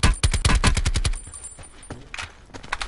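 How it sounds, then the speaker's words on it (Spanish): Rapid bursts of gunfire in the battle royale video game Call of Duty Blackout: a loud, tight string of automatic shots, then a lull and a few scattered more distant shots. "Desde tan lejos va a disparar."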